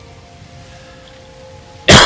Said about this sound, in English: Stop coughing into the microphone.